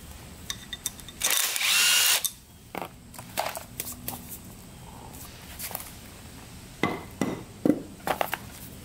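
Power tool spinning briefly while removing the stator cover on a Suzuki RM125 dirt bike, one short loud burst followed by scattered clicks, knocks and handling noises nearby.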